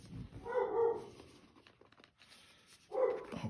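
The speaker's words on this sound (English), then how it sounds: "the dog's barking at somebody" A dog barks indoors at someone, two short bursts of barking separated by quieter rustling and handling noises, moderately close.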